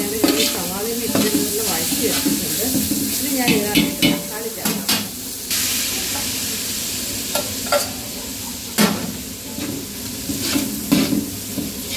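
Onions sautéing with salt in a pan for pulao, a steady sizzle broken by repeated stirring scrapes, close and fairly loud, with a few brief background voices.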